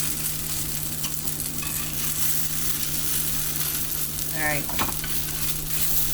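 Breakfast of eggs, sausages and pancakes frying in a plain iron skillet, a steady close sizzle with a constant hum beneath, a person briefly speaking once.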